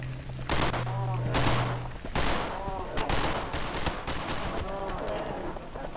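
Gunfire in the horror video game Cry of Fear, sustained rapid shots and bursts filling the scene, loud and dense, with voices in the background.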